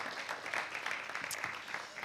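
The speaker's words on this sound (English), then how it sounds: "So a round of applause for UPTEC and Porto Municipality" Scattered applause after a startup pitch event hangout, quiet and thin, with a few distinct claps over about two seconds.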